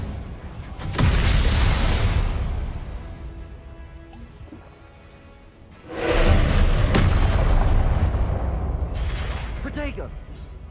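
Two heavy blasts of spellcast explosions in Hogwarts Legacy, each a loud booming burst that rumbles and fades over a few seconds, with a lighter crack near the end.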